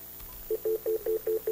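A telephone keypad dials a call: six short, evenly spaced tone beeps, clear and fairly close, against a quiet background.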